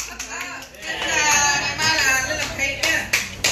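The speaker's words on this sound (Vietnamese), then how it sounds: "Rồi mời bà và các bạn vỗ tay cho bạn Michael Tết Tèo nha." A classroom of children claps for a student, a dense patter of hand claps running steadily under lively kids' chatter and a teacher's voice, loud and close.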